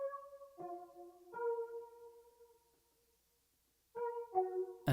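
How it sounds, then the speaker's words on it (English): Mellotron keys play a few sustained chords, each struck then held and slowly fading, with a gap of near silence before two more chords and a sharp burst at the end; no talk. "So I added these Mellotron Keys that sound like this."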